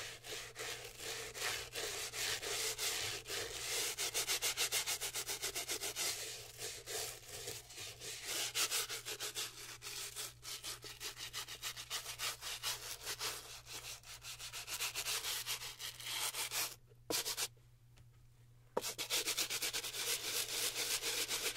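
A brass bristle brush scrubs a white Gucci sneaker in fast, rhythmic, close-up strokes, a continuous rasping scratch with a short pause near the end.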